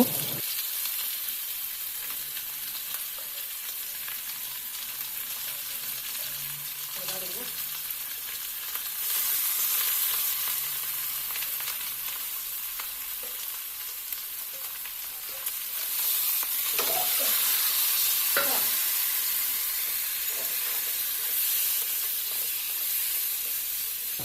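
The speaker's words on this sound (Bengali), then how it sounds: "আলু দিয়ে ভালো মতো কষিয়ে নিব মাংসগুলোকে" Marinated chicken and potatoes frying in a pan, a constant loud hiss of sizzling oil that grows stronger midway, with occasional spoon scrapes and stirring clatter, no one speaking.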